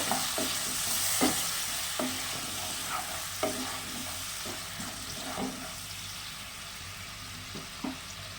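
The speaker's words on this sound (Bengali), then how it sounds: "এবার দিয়ে দেবো এই সর্ষেটা বেটে রেখেছি সেটা কষিয়ে নেব" Ground mustard paste fries in oil as it is stirred, a steady sizzle under repeated spatula scrapes and knocks against the pan at irregular intervals, close and clear.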